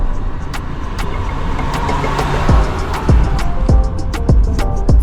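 Cars on a road in St. Anne, Jamaica, with one vehicle overtaking and swerving; a steady engine and tyre roar fills the scene, with several sharp passing swells and brief horn-like bursts toward the end.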